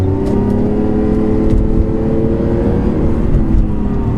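A modified Lamborghini Aventador accelerates hard from close by, its engine roaring loud and steady throughout with rising tonal harmonics and no voices.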